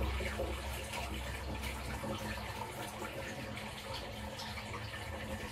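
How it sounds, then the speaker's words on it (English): Cold water pours from a demijohn into a fermentation vessel for mead, a steady close gurgling splash lasting several seconds, low in level with no talk. "So we're just going to add that to our fermentation vessel."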